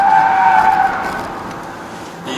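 Tires on a 2018 Honda Odyssey minivan with a V6 engine and 10-speed automatic squeal loudly while cornering on a test drive, a sharp high screech that fades over about a second and is followed by road noise.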